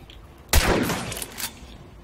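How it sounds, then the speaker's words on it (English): Gunfire in the Hunt: Showdown video game, a single sharp loud shot with a brief reverberant tail and a smaller follow-up burst, no talking. "Oh, I shot him."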